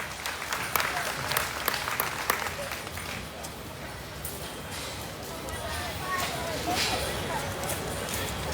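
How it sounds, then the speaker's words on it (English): Applause ripples through a crowd at a junior crossbred gilt livestock show, steady and fairly close for several seconds, with scattered sharper claps and faint hoof or pen noise mixed in. "Let's give them a round of applause as they take their gilts back."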